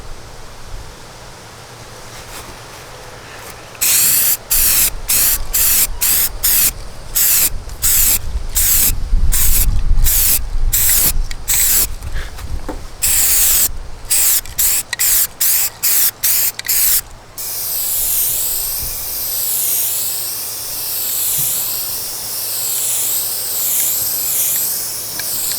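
Spray paint hisses onto a rusty metal strip along the base of a 1984 salvaged mobile home, loud close bursts of rhythmic on-off spraying, then a long steady hiss toward the end, with no talk.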